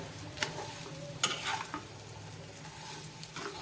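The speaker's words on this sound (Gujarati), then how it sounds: "હવે આપણે બધી વસ્તુને સારી રીતે મિક્સ કરી દઈએ" Bottle gourd muthiya stirred in a pan over a medium gas flame: faint sizzling with a few light scrapes and clinks of the spoon, quiet and close.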